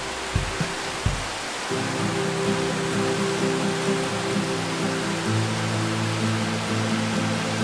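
A river near the Qosniccpaccha waterfall in Ayacucho rushes in a steady, even broadband wash, with a couple of brief knocks near the start and a sustained low hum joining later.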